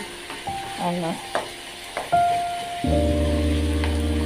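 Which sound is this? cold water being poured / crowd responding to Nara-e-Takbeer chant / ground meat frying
ground meat frying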